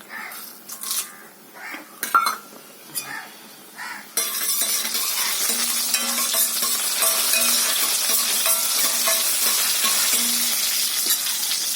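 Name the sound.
mustard seeds and dried chillies frying in oil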